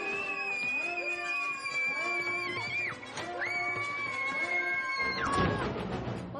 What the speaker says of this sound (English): Looked like a humongous cat.